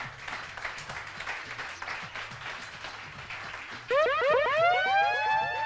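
Audience applause at a pitch competition for a contestant, clapping for a few seconds before a loud rising electronic sweep, like a siren or game-show effect, cuts in and dominates.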